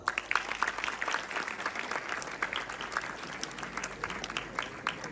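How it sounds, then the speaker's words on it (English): Sustained audience applause fills a startup summit founders' panel hall, a moderately loud, even patter of many hands clapping, heard alone without speech. "a huge round of applause for Mr. Jerin Venad"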